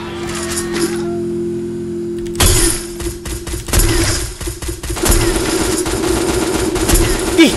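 A low steady drone holds briefly, then sharp gunshots and clattering impacts from a shooter game with an AWM sniper rifle break in, loud and uneven.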